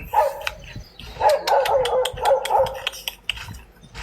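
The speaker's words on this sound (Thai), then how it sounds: "อย่าเห่าซิ" A dog barks in short repeated bursts close by at a Thai temple, the yips and barks irregularly spaced and fairly loud, with little else in between.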